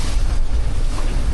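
A racing sailboat on the open ocean pounds over big waves, giving a loud, rushing blend of wind buffeting, hull thumps and spray that runs without a break.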